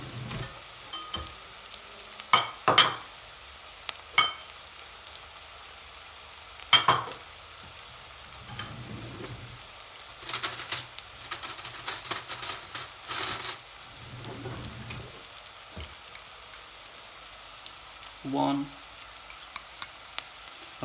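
Ginger, garlic and chopped coriander stalks fry with salt in a pan for mutton curry, a low steady sizzle broken by repeated sharp clinks and scraping bursts of stirring, heaviest around the middle.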